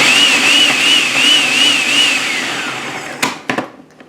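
A kitchen blender grinds garlic cloves and onion for sweet pickle relish, a loud whine that wavers rhythmically in pitch, then cuts off and is followed by a few sharp clicks and knocks.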